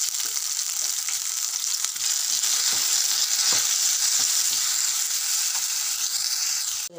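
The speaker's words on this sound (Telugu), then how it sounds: "ఇప్పుడు కట్ చేసి పెట్టుకున్న టమాటాలు ఇందులో వేసి బాగా మగ్గనివ్వాలి" Chopped tomatoes sizzling in oil in a pan for a chukkakura tomato chutney, a steady close hiss with small crackles and occasional stirring scrapes throughout, no talking.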